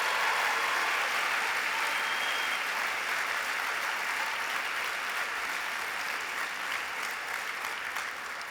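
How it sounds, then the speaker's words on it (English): An audience at an alumni hall of fame ceremony applauds its inductees, a dense, even wash of many hands clapping in a hall that holds steady and fades slightly toward the end. "Can we give them a wonderful round of applause?"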